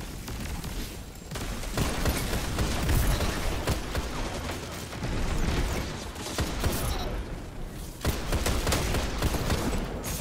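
Rapid pistol fire in a sci-fi cowboy-themed space shooter game, dense overlapping shots with mechanical clatter running continuously at steady loudness, no talking.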